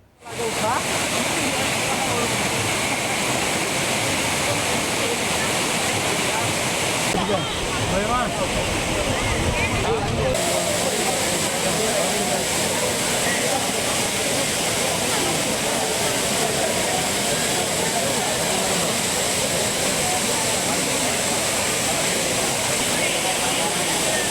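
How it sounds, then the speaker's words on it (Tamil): Courtallam waterfalls in Tenkasi roar steadily and loudly, a dense continuous rush of falling water with crowds of bathing tourists faintly mixed in throughout. "ஞாயிறு விடுமுறையை முன்னிட்டு தென்காசி குற்றால அருவிகளில் சுற்றுலா பயணிகள் கூட்டம் அலைமோதுகிறது"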